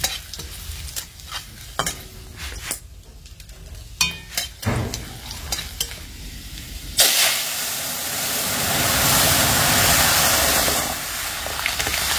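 Lentils being tempered in a pan give a loud sizzle that swells into a steady, hissing roar of frying, preceded by scattered clinks and stirring.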